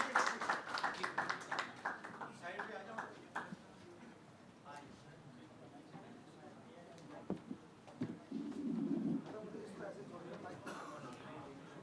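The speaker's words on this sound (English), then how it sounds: "A round of applause for all our esteemed speakers" Scattered audience clapping at a government logistics event in Gujarat, brisk and fairly close at first, then thinning into sparse claps with murmuring voices underneath.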